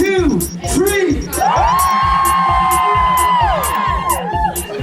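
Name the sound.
wedding guests giving a huge cheer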